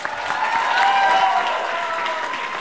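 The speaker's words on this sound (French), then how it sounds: "Applaudissez le seul et unique Dominique Bouchard-Pinard!" A dense wash of clapping fills the space, steady and sustained like an audience applauding together at a college show.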